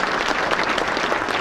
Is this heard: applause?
yes